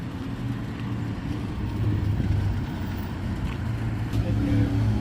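Traffic in the Bahamas, with cars driving on the left, makes a continuous low rumble of passing engines and road noise, steady and moderately close, with faint talk in the background.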